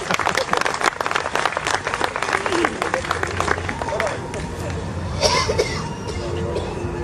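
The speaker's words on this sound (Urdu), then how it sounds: "تالی بجاتے رہیے" Audience applause at a humorous literary reading, dense clapping from a crowd throughout, with occasional coughs and murmurs mixed in.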